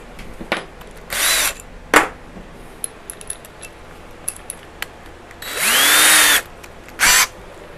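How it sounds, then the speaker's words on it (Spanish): An electric drill cuts a pilot hole while installing electrical service, firing in short bursts of whirring with clicks and handling noises between them, one longer run near the end. "Vamos a hacer el otro hoyito de guía."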